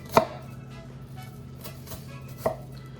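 A knife chopping an onion on a cutting board for spaghetti marinara gives two sharp, close knocks, the first just after the start and the second near the end, with a quiet steady hum between them.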